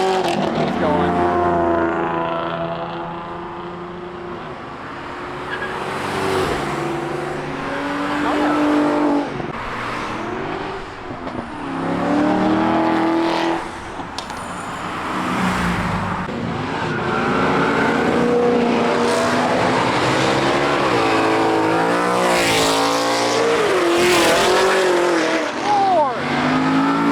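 Cars leaving a car meet rev hard and shift through the gears as they accelerate past, loud and close, with engine roars rising and falling over about half a minute and voices talking in between.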